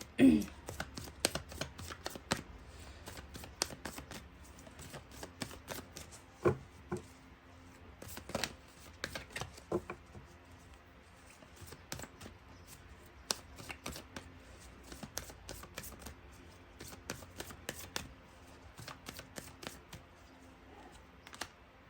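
A tarot card deck is shuffled by hand in repeated bursts of soft, close riffling and clicking cards, with brief pauses between rounds and quiet overall.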